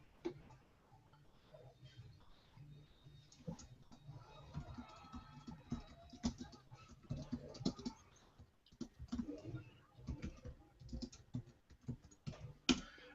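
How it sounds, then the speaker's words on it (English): Quiet, uneven clicking of keys on a computer keyboard, in short bursts of typing with brief pauses between them. "And then we'll get started by typing here."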